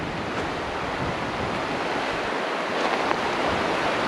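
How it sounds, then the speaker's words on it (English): Shallow, wide river flowing through Rothiemurchus forest, a steady broadband rush of water that fills the whole stretch without pause, with some wind buffeting the microphone. "So here we are, the river."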